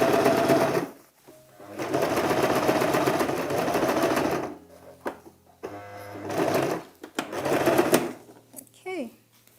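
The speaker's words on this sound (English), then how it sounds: "I'm attaching the bias tape first with the kaftan right sides facing outwards and sewing along the edge" A sewing machine stitches bias tape along a kaftan's edge in several bursts of rapid, close needle clatter separated by short pauses, with a faint voice in the gaps.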